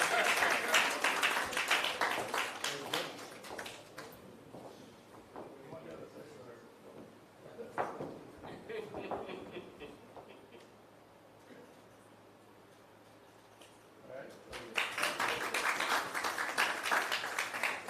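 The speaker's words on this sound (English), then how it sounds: "That's a moment for you to clap. Come on." Audience at a national health research conference breaks into applause that dies down into a quieter stretch with scattered voices and small noises, then swells into a second loud round of clapping near the end.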